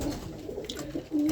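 Roller pigeons coo nearby in a low, throaty rolling murmur, with a few soft coos running together over a steady room background and no talking.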